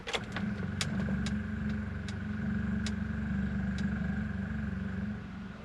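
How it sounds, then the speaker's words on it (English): An electric fuel pump, beer-can sized and mounted on a car's rear cross member, builds pressure after the car has sat unstarted for a month, giving a steady low hum with a few faint ticks over about six seconds. "the pump's just coming up to pressure"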